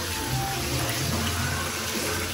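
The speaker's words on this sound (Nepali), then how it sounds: "यहाँ हेर्नुहोस् त छाँगोबाट आएको पानी" Water pours steadily from a waterfall beside a temple, a continuous, even rushing hiss heard up close at moderate loudness with no break.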